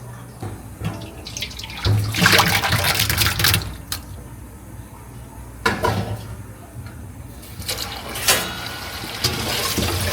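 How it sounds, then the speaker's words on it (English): Cooked tapioca pearls for bubble tea being drained and rinsed under room-temperature drinking water, with splashing, pouring and clattering bursts. "we're gonna drain it and rest it under the room temperature drinking water"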